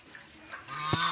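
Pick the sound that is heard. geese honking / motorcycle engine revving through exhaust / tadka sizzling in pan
geese honking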